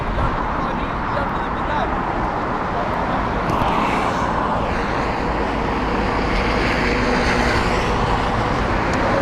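A DHL cargo plane at Heathrow Airport roars loudly and steadily throughout, its engine noise swelling mid-way, with a voice talking over it.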